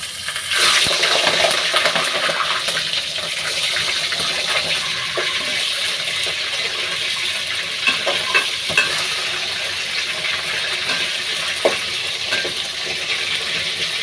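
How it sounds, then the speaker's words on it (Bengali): Chicken pieces sizzle loudly and continuously in hot oil for a chicken roast, a dense, close frying roar that stays steady throughout with a few faint clinks and stirring touches. "এবারে আমি চিকেনের পিসগুলো তেলের মধ্যে দিয়ে দিচ্ছি।"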